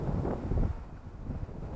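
Strong wind gusts across a backyard, buffeting the microphone with a low, rough rumble that rises and falls over a couple of seconds.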